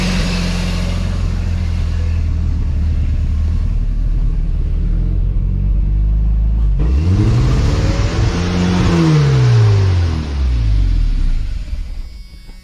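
A junkyard Chevrolet S10 with a stuck throttle and no rev limiter roars at full throttle, a loud, steady, close engine drone that sweeps up in pitch, falls back, then climbs and wavers again.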